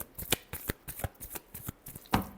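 Tarot cards being shuffled by hand, a quick run of crisp riffling flutters in steady rhythm, close and quiet, with no voice.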